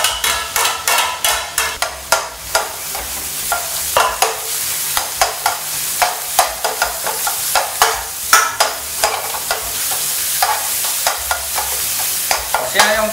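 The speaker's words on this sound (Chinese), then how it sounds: "我现在用大火爆香哦， 爆出香气了以后，咸菜下来。" Garlic and chili stir-fried in a wok of hot salad oil over high heat: a steady sizzle under the rapid, rhythmic scrape and clank of a spatula against the metal, close and continuous.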